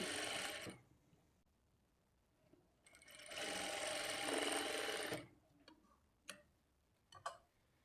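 A sewing machine stitches a blouse dart in two bursts of rapid mechanical ticking, a short run at the start and a longer one in the middle, separated by quiet and followed by scattered clicks.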